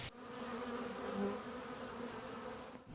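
A honeybee colony being removed from a structure in Georgia, heard as a steady, dense buzzing swarm at close range that holds throughout without any talk.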